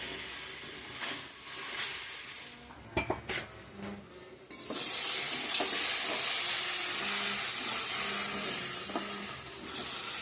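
Spiced masala sautéed in a pan for an egg tarka, with a few sharp utensil clinks early, then a steady loud sizzle joined by repeated scraping stirs.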